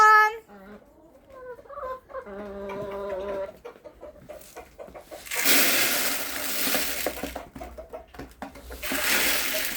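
Chickens cluck and a rooster-like call rises near the start, then loud rustling and scratching noise fills the rest, with clucks continuing underneath.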